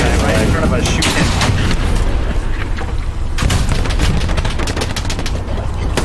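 Heavy, loud gunfire from Hell Let Loose, a tank and infantry battle at Carentan: rapid automatic bursts and booming shots that run almost without pause, with voices talking underneath.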